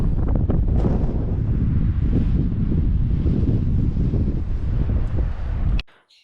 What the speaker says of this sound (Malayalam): പക്ഷേ നല്ല തണുത്ത കാറ്റ് വരുന്നുണ്ട്